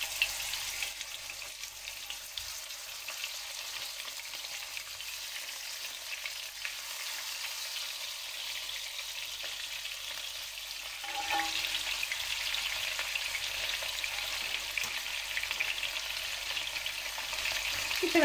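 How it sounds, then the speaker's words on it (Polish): Pork shoulder roulades sear in hot oil in a roasting pan, giving a steady, close sizzle and crackle that runs unbroken, growing slightly louder partway through. "I teraz będziemy obsmażać mięso z każdej strony na złoty kolor."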